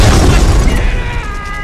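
A grenade blast in the PS2 game Reservoir Dogs hits as a loud, close, broad boom right at the start, then its rumbling tail slowly fades over the next second and a half.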